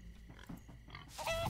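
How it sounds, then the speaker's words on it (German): Pigs oinking in the Minecraft: Story Mode video game, a few short grunts and snorts at close range that grow into a louder squeal at the end. "Stupid pigs. Blöde Schweine"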